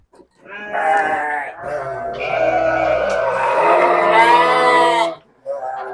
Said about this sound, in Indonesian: nih ini domba cantik